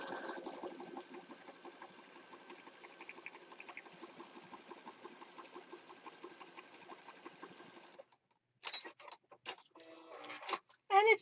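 Sewing machine stitching through paper junk journal pages, a steady rapid mechanical chatter running for about eight seconds before stopping, followed by a few brief clicks and handling noises.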